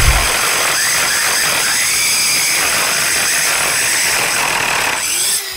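A mini circular saw cuts through a block of wood, a loud, steady whining roar that holds close and constant for several seconds before winding down as the blade clears the cut.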